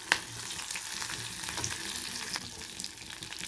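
Turmeric and curry leaves sizzle in hot oil while being stirred for a ridge gourd fry, a steady close crackling with small spits and pops, no voices.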